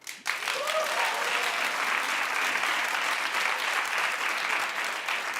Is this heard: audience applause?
yes